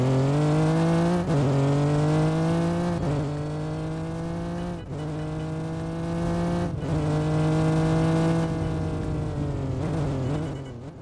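An Acura NSX in a video game drives along with its engine droning and rising in pitch through several gear shifts, steady and loud, with brief dips between gears and no talk.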